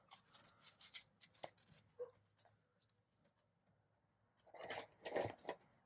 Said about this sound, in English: And here my puppy is kind of yelling.